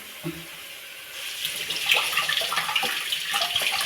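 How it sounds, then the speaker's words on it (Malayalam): Tap water runs steadily into a sink while carrots are washed under it, a close hissing splash that starts after a quiet opening and continues with small irregular splashes and no talk. "ഇതാണ് ക്യാരറ്റ് നമുക്ക് കഴുകാം"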